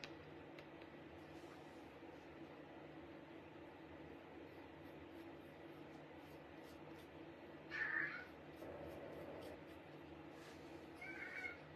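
A cat meows indoors in an office on a farm, two short faint calls over a steady low background hum, somewhat distant and without speech.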